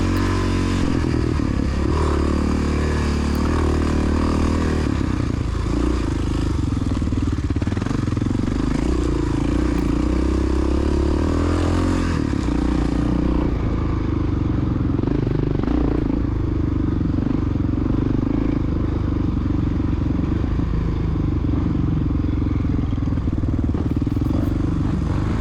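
Honda XR600R dirt bike racing in a senior class cross-country event, its engine droning loud and steady throughout with clatter from the ride, while another rider's bike passes close by.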